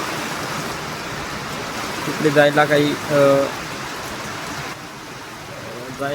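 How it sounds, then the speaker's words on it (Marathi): Steady broadband rushing of the flooded Godavari River in Nashik, fast-flowing water loud and continuous, with someone speaking briefly over it. "खूप डेंजर पूर आलेला आहे हा"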